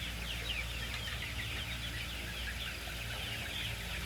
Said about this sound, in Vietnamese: cho các con gà nó ăn